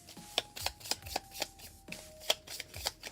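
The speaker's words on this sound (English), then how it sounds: "we shuffle the bot deck" A deck of cards being shuffled during a live Star Trek: Captain's Chair board game session, with about a dozen quick riffling bursts in steady rhythm, close and clear with no talking.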